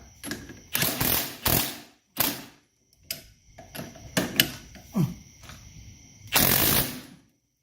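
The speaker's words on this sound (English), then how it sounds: "let's go ahead and torque this down." Torque wrench ratcheting as a lock nut is tightened on a control arm of a 1984 Mercedes 300SD's suspension, loud close bursts of clicking in several separate runs with short pauses between them.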